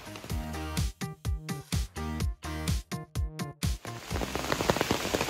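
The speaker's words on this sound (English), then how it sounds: "now it's still downpouring" Heavy rain pours down on a mountain section of the Appalachian Trail in Pennsylvania. Choppy, pulsing bursts of noise give way to a dense patter of drops hitting a surface nearby, with no talking.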